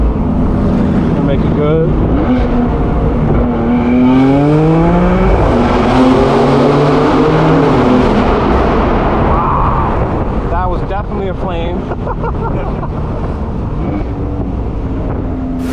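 A 1000HP BMW M4 F83 Convertible roaring through a tunnel, loud exhaust rising and falling through gear changes with booming echo, heavy wind rush and close, sustained engine tone throughout.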